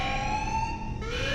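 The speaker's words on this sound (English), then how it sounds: "Alarm. Structural damage. Warning." Alarm siren in the video game Space Marine, a loud, steady rising electronic wail that drops in pitch and restarts partway through, heard alone with no talking.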